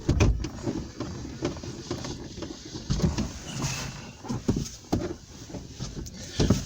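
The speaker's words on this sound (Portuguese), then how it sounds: "Fechei o vidro do carro" Power window on a car closing, a low motor whir with small mechanical clunks heard from inside the car, fairly faint, with no talk.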